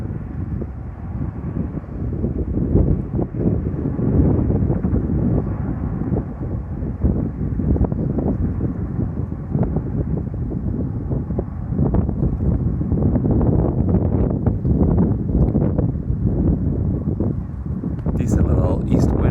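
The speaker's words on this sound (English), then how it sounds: "Decent little east wind right now." Gusty east wind buffeting the microphone outdoors near a wildfire above Lake Tahoe, a loud continuous low rumble that churns for the whole stretch.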